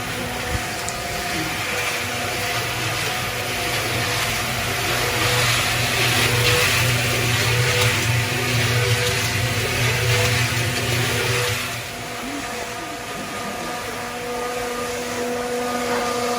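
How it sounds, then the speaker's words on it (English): A Ryobi cement mixer churns cement with a steady, droning motor hum and a rumbling drum, continuous and fairly close, easing slightly lower near the end, with no voices. "Here we see the cement mixing"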